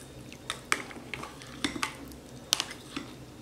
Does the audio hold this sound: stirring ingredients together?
yes